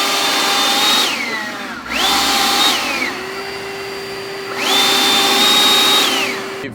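A Ryobi cordless leaf blower runs on turbo with a loud, high motor whine. It spins up and winds down three times, with a steady lower hum in between.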